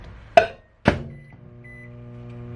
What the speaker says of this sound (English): I'm gonna throw this in the microwave real quick.